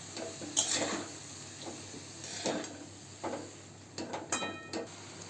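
Chopped spring onion greens and onion being stirred in a pan, soft scraping and clinks of a spoon coming in scattered bursts over a quiet sizzle, close but moderately faint.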